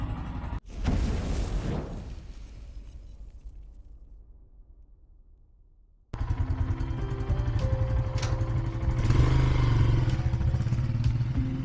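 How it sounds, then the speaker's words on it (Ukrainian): After a sharp clatter and a quiet stretch, a motorcycle engine starts and runs steadily at idle, close by and fairly loud. "Мотоцикл завівся без проблем, дуже легко."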